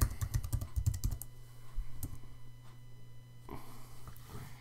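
Fingers type on a computer keyboard in a quick burst of clicking keystrokes, then a few sparse, quieter taps. The sound is close but faint overall, with no talking.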